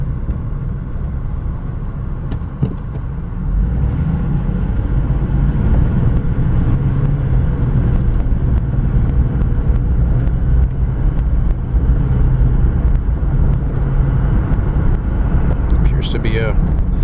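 A 1994 GMC Jimmy SLE 4x4 on a test drive gives a steady, loud low engine and road rumble from inside the cabin, holding constant throughout with no talk.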